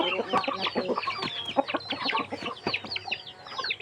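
Several chickens cluck close by in a busy, overlapping stream of short calls, with no talking.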